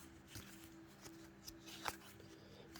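Old Magic: The Gathering cards, which tend to stick together, are shuffled by hand. Soft, faint riffling and clicking comes in short bursts close by.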